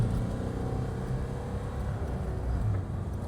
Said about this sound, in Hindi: टिल 4500 RPM के आसपास में रैव करता है